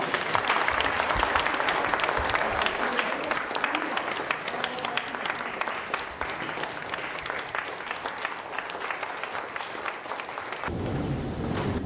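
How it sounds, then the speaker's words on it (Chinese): An audience at the opening of a Taiwanese cultural event applauds in a dense, steady wash of clapping that carries on for about ten seconds before thinning out at the end. "大家拍手好看"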